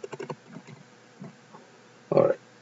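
A file name is typed on a computer keyboard: a quick run of light key clicks, a few scattered taps, then a louder final key press, close and alone.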